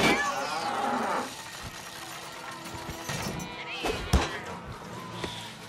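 Cows mooing in the South Park: The Stick of Truth video game, a drawn-out low lowing call up front followed by thuds and scattered game sounds, with brief speech in between.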